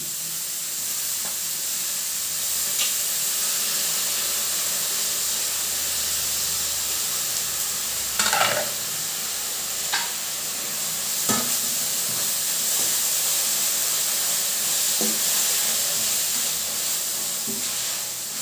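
Washed dill leaves frying with turmeric in a pan for a North Karnataka palya: a steady, loud hiss of sizzling oil and steam runs throughout, punctuated by occasional clicks and scrapes of stirring, with no voices.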